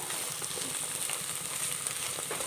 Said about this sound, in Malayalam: അതൊന്ന് ഇളക്കി കൊടുക്കാം വെജിറ്റബിളും ചേർത്ത് ഇളക്കി കൊടുക്കാം